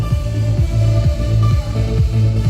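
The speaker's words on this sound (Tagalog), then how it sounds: "It's a Christian music na danceable." Danceable Christian music in a progressive EDM style played over a sound system at a 60th birthday event, loud and continuous with a pulsing bass line and sustained synth tones.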